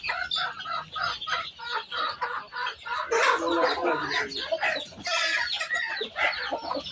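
A brooding hen that hatched duck eggs clucks loudly and repeatedly close by, with other chickens calling around her in a lively farmyard coop.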